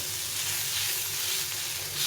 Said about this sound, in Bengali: দেখো এগুলো সুন্দরভাবে ভাজা হয়ে গেছে